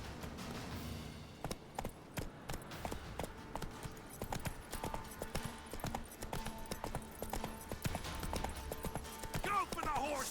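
A horse galloping in The Witcher 3: Wild Hunt, rapid rhythmic hoof clip-clops close by, with shouting voices and combat noise over them.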